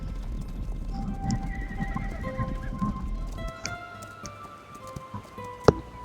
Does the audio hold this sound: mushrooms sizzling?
no